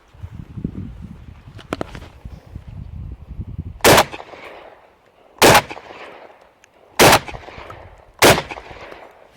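A semi-automatic 24-gauge shotgun, model B-4, fires four loud, sharp shots at a target outdoors, spaced roughly a second or two apart, after some soft rustling and handling noises.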